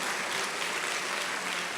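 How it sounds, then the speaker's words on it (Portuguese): A church congregation during a sermon applauds in praise, a dense, even roar of many hands clapping at once, loud and sustained with no voices standing out. "aplauda o Senhor Jesus"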